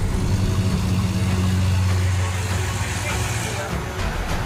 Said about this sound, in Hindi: मर्सिडीज को ट्रैक्टर में बांधकर निकालने की कोशिशें शुरू हुई।